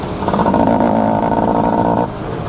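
A Suzuki Satria Hiu or Yamaha F1ZR two-stroke motorcycle engine hums steadily while riding on a road, loud and close with a sustained tone that cuts off near the end.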